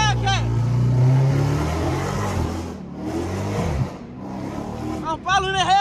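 A Dodge Hellcat engine revs and accelerates nearby, loud and sustained with rising and falling surges, while people shout and talk excitedly over it.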